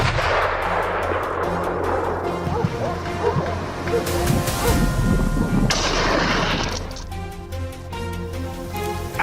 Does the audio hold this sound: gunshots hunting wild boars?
yes